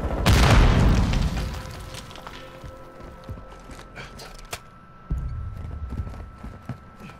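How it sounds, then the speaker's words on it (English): Grenade blast in Call of Duty Modern Warfare 2: a loud, close booming explosion opens, then a long rumbling decay with scattered clatter and footsteps, and a second heavy thud hits about five seconds in. "Oh, grenade!"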